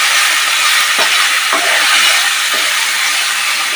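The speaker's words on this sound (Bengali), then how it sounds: "দিয়ে মশলাটা ভালো করে কষাতে হবে" A spice masala with Kashmiri red chili powder frying in a pan sizzles as a loud, steady, high hiss throughout, with a few faint stirring scrapes and no voices.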